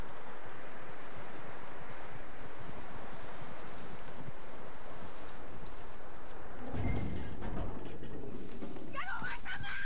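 Horse hooves clip-clop in a steady rhythm in the game Red Dead Redemption 2, growing louder and closer toward the end, with faint rustling behind.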